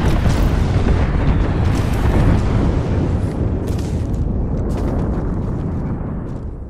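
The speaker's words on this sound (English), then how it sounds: "Signaling an airstrike." A loud, sustained airstrike explosion in the battle-royale game Apex Legends, a dense rumbling roar of blasts that fills the clip and slowly tapers off, with no talking over it.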